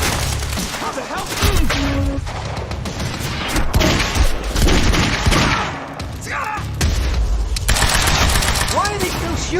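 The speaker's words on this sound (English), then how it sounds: "Why are they still shooting?" Sustained enemy gunfire in Quantum Break, rapid automatic bursts and scattered shots crackling loudly and continuously, mixed with thuds and occasional speech.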